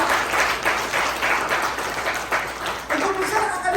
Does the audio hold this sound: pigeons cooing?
no